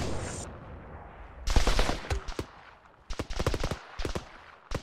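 Gunfire and bullet impacts in Arma 3 APEX, a co-op military shooter: sharp cracks and bursts in several clusters, some near and loud, others spaced irregularly, with a steady ambient hiss between volleys.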